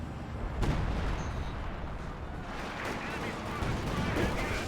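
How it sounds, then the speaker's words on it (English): Mortar fire rains down in a Company of Heroes 2 match, heard as a dense, continuous rumble of distant artillery thuds and blasts with no clear breaks, mixed under steady battle noise. "mortar fire raining down over their heads here"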